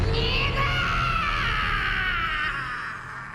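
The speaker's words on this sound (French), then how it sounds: "Luffy se réveille bloqué dans les sables mouvants et hurle." Long, sustained scream from One Piece's Luffy, stuck in quicksand in the anime, loud and high-pitched, slowly fading over a few seconds.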